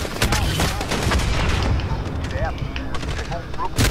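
Dense gunfire from the video game Call of Duty Modern Warfare, rapid loud bursts and booming shots near a tank, continuing throughout with voices underneath.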